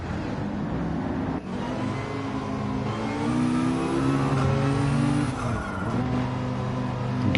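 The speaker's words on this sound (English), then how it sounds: "You can hear the GTR." A Nissan GT-R race car engine drones loudly and steadily, its pitch rising and falling as it accelerates and lifts, with a brief dip near the start and another shift change later, heard alone without talk.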